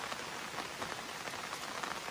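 Steady rain falling on a beach during shore fishing, a dense even hiss of drops with no break and no talk.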